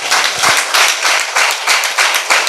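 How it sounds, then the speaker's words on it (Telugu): A church congregation claps together at a Sunday worship service, giving loud rhythmic bursts of applause in steady pulses of roughly two claps per second. No one speaks over it. "చప్పట్లు కూడా దేవుని మహిమపరుద్దాం"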